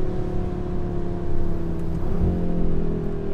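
A 2022 Audi RS3 Sportback pulling hard on a winding road, its engine droning steadily from inside the cabin and stepping up in pitch partway through as it builds speed.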